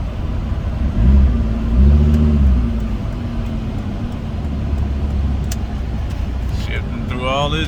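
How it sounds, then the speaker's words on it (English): A Volvo car engine revs and climbs through its gears, loud and close, with rising and falling engine pitch and steady road noise, ending in a higher-pitched whining climb. "Shifting through all his gears like it's supposed to."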